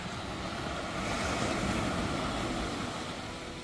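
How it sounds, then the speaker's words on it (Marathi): Sea waves break on Velneshwar beach on the Konkan coast, a steady, continuous wash of surf mixed with wind rush that holds at an even loudness throughout, with no voices. "एकदम निळा समुद्र आहे आणि फक्त लाटांचा आवाज येतो"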